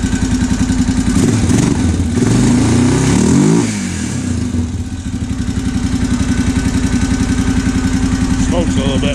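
A Honda 650 motorcycle engine, said to smoke a little when revved, roars up loudly close by, then drops back to a steady, lumpy idle with a rhythmic throb, as someone talks over it.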